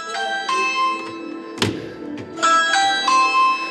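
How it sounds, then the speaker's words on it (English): A bell rings in a shop, sounding in a few bright repeated bursts with a short knock partway through, fairly close and with no talk over it. "Now my bell's going."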